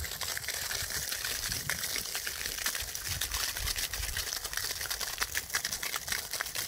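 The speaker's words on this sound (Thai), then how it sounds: "น้ำไหลแรงนะครับ" Water gushes strongly into a newly dug pond, a continuous loud broadband rush with a bubbling, splashing texture that holds steady throughout.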